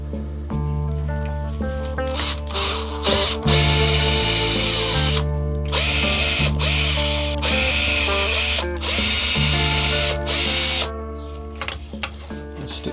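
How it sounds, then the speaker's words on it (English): A power drill bores a screw hole for the bridge in a Telecaster-style guitar body, whining loudly in several long bursts with short pauses and pitch changes as the motor speeds up and slows. "let's get in there and drill the first hole"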